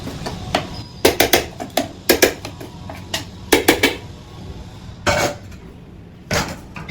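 Thick moong dal batter for pesara punugulu is beaten hard by hand without water, giving bursts of sharp clinks and scrapes of a utensil against a bowl in uneven clusters, close and fairly loud, with no talking.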